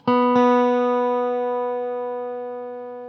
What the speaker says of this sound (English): That 2nd string is sharp. Ow, that's a horrible sound.